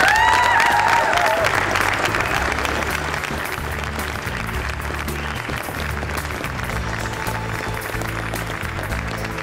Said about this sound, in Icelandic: Gefið þið gott klapp.